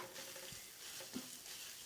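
Grated coconut sautéing with lentils and cumin in a pan for a wedding-style mixed vegetable poriyal, a soft continuous sizzle with faint stirring scrapes, quiet and close, no voices.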